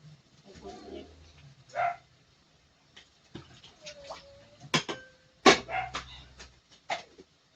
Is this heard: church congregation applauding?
no